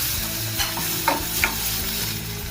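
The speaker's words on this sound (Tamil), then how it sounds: "இது கொஞ்சம் நல்லா வதங்கட்டும்." Chopped tomato sautéing with salt in a pan for paleo egg muffins, with a steady soft sizzle and a few light stirring scrapes near the microphone, no talking.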